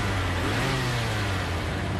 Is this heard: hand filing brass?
no